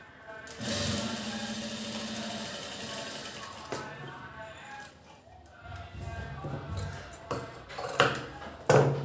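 Sewing machine stitching piping on a princess-cut blouse runs in a steady mechanical whir for a couple of seconds, then sounds in shorter bursts with clicks and handling noise while someone talks.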